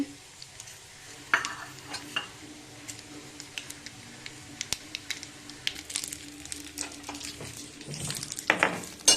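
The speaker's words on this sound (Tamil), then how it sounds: "தாளிப்பு கண்டு வச்சு எண்ணெய் விட்டுருக்கேன். எண்ணெய் காஞ்சிச்சு, கடுகு உளுந்து சேர்த்தாச்சு." Mustard seeds and urad dal crackle in hot oil as a tempering for coconut chutney, with sharp scattered pops and sizzling bursts, plus a few spoon-against-pan scrapes, growing busier toward the end, no voices.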